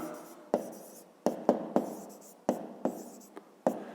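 A pencil writes figures on paper for a fifth-grade math exercise: quiet scratchy strokes with sharp taps as each mark begins, repeated in an irregular rhythm close up.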